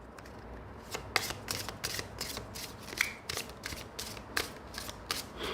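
Oracle card deck being overhand shuffled, a run of crisp papery riffling bursts in quick uneven rhythm, close and clear with no talking.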